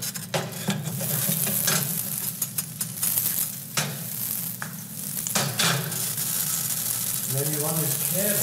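A potato pancake fries in butter in a pan with a loud, steady sizzle, broken by scrapes and clinks of a utensil against the pan. A voice-like sound comes in briefly near the end.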